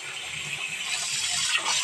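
Tap water gushes into a pot being filled for steaming dhokla in a home kitchen, a steady, close rushing stream that holds for about two seconds with no voices.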